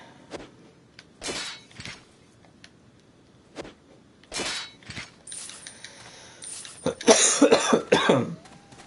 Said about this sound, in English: I apologize if you guys are tired of hearing me cough.